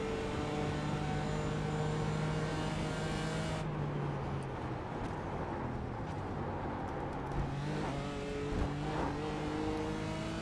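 A race car engine droning steadily in an iRacing practice session while chasing a Porsche, its pitch dropping sharply on a downshift partway through and then climbing again, close and continuous.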